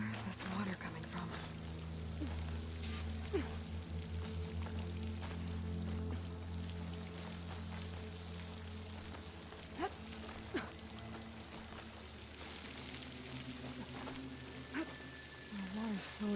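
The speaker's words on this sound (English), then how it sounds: "The water's flowing into the wall." Water in the Horizon Forbidden West game flows steadily into a rock wall, a continuous pouring, splashing rush with scattered droplet taps that lasts throughout, with a voice heard at times.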